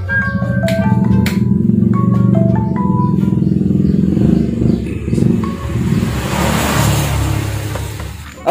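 A motorcycle engine runs with a steady low drone that swells as it revs, while bright melodic tones ring over it during the first few seconds.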